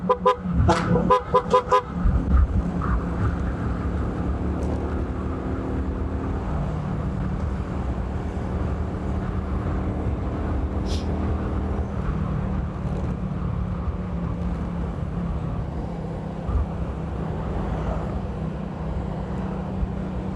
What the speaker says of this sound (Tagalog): Daming sasakyan, no?